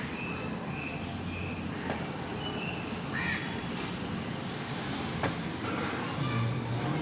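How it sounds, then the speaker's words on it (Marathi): A crow waiting at a window for chapati gives a few short, fairly distant caws over steady, loud background noise, with no talk. "हे बघा आमचा कावळा."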